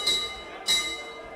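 A boxing bell ends the first round of a professional bout between Michael Decardi Nelson and Lukman Akinolugbade, ringing twice in quick succession with a bright, sustained metallic tone over arena background noise.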